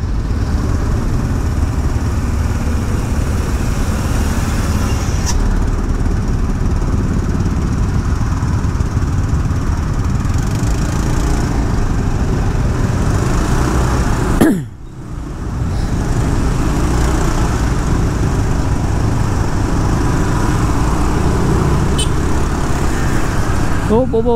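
Idling motorbike and car engines in a traffic jam in Canggu, Bali, a steady loud rumble that continues throughout with a brief dip midway, while a person talks over it.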